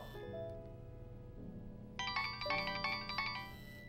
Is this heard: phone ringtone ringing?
yes